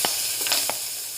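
Garlic sizzling in frying oil for Filipino fish sarciado, with a steady bright hiss broken by a few soft stirring clacks in a short close burst.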